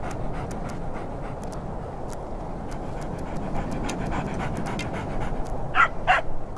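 A puppy pants steadily and close in the Mystery Trackers 9: Winterpoint Tragedy video game, a quick, rhythmic breathy panting that runs throughout, with a couple of small yips or whimpers near the end.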